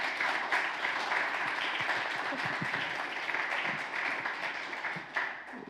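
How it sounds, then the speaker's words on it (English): A panel audience at a regional agriculture forum in Poland applauds: steady, dense clapping from many hands that holds throughout and eases slightly near the end. "please do give them a warm round of applause."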